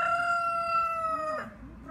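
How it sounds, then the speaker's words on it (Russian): A Cochin rooster at an exhibition of private home building gives one long, loud, clear crow from close by, then trails off into lower clucking. "Вот петухи"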